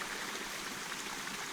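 Water flows steadily at a small natural pond or creek area, a continuous soft rushing and trickling wash that holds constant throughout with no voices.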